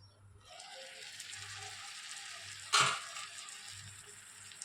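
Onions frying in oil in a covered pan over lowered heat make a faint, steady sizzle. Partway through, a single sharp knock or clink rings out above the hiss.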